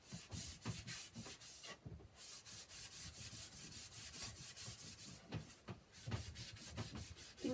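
Lint-free cloth wiping wax off old wooden drawers painted with chalk paint, a steady run of soft rhythmic rubbing strokes, close and faint, with no talk.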